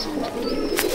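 Pigeons cooing in a loft, a steady low murmur of overlapping coos with a brief brighter burst near the end, fairly close and continuous.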